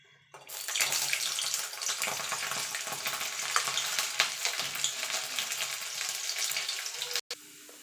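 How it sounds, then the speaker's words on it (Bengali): Garlic frying in hot oil that was just used to fry chilies, making a steady, close, loud sizzle that runs almost the whole time with faint stirring and no talking, then cuts off abruptly near the end. "এই তেলেই রসুনটা ভেজে নেব।"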